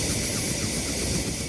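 Chopper 5, a news helicopter in flight, giving a steady loud broadband engine and rotor roar heard from inside or close by, continuous with no speech.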